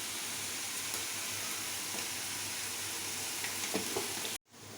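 Red ant eggs with turmeric fry in a pan with a steady, close crackling sizzle and faint stirring, cutting out abruptly near the end.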